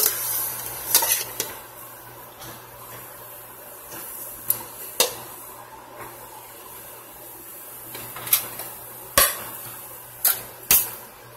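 Pheasant meat sizzling in a pan, with a low steady fry and several sharp scraping clicks of stirring spread through it, close and fairly quiet, with no voices.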